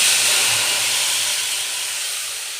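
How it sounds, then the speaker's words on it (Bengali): White cumin seeds sizzle and splutter in hot oil in a home kitchen pan, a steady, bright hiss close to the mic that slowly fades. "দেখো তেল পুরো গরম হয়ে গেছে, জিরা দিয়ে দিলাম, সাদা জিরে, তারপরে আবার ছিটছে"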